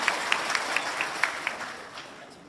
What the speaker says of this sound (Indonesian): Tepuk tangan untuk Bapak Ibu sekalian.